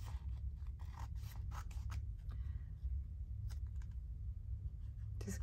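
Scissors trim a hardcover envelope journal page in a few quick, close snips and rasps, the soft crisp cuts separated by brief pauses over a low steady background hum.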